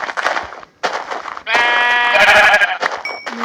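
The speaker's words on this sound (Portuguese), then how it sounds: "Sabia que tinha uma ovelha ali." Sheep bleating in a video game: one loud, drawn-out, wavering bleat rises in the middle, with shorter game noises before and after it.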